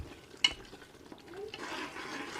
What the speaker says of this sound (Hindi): अब यहाँ पर मसाले को अच्छी तरह से हम भून लेंगे।